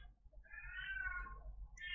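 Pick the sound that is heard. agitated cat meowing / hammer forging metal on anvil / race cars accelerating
agitated cat meowing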